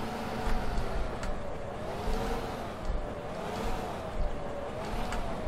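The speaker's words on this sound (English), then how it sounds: "For John Deere tractor is pretty good." A John Deere tractor engine in the Farming Simulator 15 video game drones continuously with a rough, rising and falling hum and rhythmic low surges, close and fairly loud, with no talk over it.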